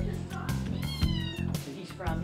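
Several cats at a county animal shelter meowing repeatedly in quick succession, close and fairly loud, with overlapping calls throughout the short moment.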